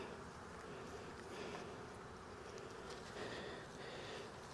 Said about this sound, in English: A lot of bee population up on top.